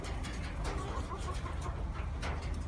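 Pet pigeons in a small coop give soft, low cooing and faint fluttery calls, steady but quiet beneath a constant hum of background noise.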